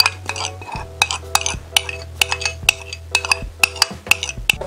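A metal utensil stirs puto batter of egg yolk mixture and flour in a bowl, scraping and clinking against the sides in a quick, regular rhythm, close and distinct with no talk.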